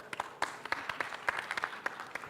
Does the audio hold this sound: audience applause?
yes